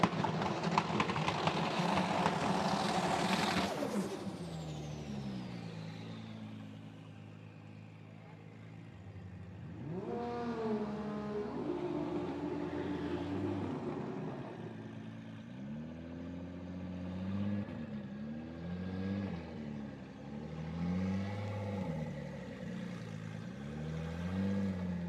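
Drag race cars at a TX2K event do burnouts, engines revving hard then roaring in rising and falling waves at moderate distance, with a quieter lull between bursts.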